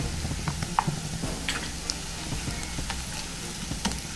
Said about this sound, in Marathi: त्यासाठी आपण आता हे आलं लसूण पेस्ट टाकणार आहोत।